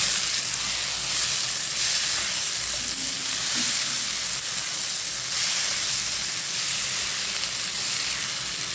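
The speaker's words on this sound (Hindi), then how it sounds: "1 टेबल स्पून साबित मिर्च और हाफ टी स्पून हल्दी। और मसाले को अच्छी तरीके से भून लेंगे।" Whole chillies and turmeric frying in a pan with coriander, a steady, close sizzle and hiss that runs unbroken the whole time, with no voices.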